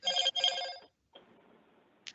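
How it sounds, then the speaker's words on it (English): A mobile phone rings during an online planning committee meeting: two close, bright ring bursts, then the ringing stops and faint room noise follows, ending with a brief high click. "Somebody's got their phone ringing."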